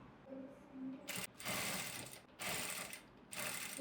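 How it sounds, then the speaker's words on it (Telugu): A sewing machine stitches in three quick running bursts separated by short pauses, fairly close and steady, during a tailoring training session at a designer studio. "ఒకసారి స్టిచ్ చేయండి మీరు."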